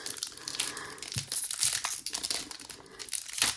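Packaging on a 2023 Select Legacy trading card box being opened, with soft crinkling and tearing of wrapper at close range, continuous and fairly quiet, with no speech.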